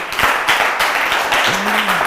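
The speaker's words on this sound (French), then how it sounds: "est-ce que vous pouvez applaudir très très fort pour vous?" An audience at a stand-up comedy show claps loudly in a dense burst, with a brief voice or cheer rising near the end over the sustained applause.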